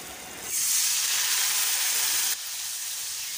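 Water poured into a hot pan of dry fish mixture sets off a loud, steady hiss of sizzling and steam that cuts in sharply, holds for about two seconds, then drops to a softer sizzle, with no talking.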